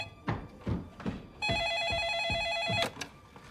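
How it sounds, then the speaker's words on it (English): An old-style telephone bell rings steadily for about a second and a half after several dull knocks and footsteps in a quiet room, then cuts off abruptly. "your phone's ringing"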